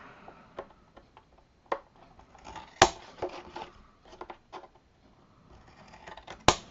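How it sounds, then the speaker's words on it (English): Crisp snipping and scraping of scissors cutting through stiff chipboard, a few sharp cuts scattered among quieter rustles and taps, close up. "using the chipboard as the guide for the edge of our scissors"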